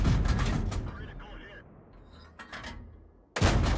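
A Comet tank in a video game fires a high-explosive shell: a loud, close boom at the start that tails off into rumbling engine noise, with another heavy blast near the end.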